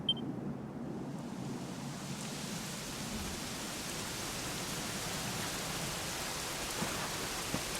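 Steady rain falls in the Dragon Quest XI video game, a dense, even hiss that holds throughout with a soft low rumble underneath and no voices.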